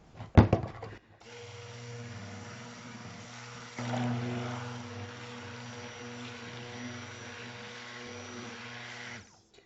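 A blender whizzes a lemon apple mint soap mixture, starting after a few clattering knocks, running steadily with a droning motor whine that rises in pitch partway through, then cutting off abruptly.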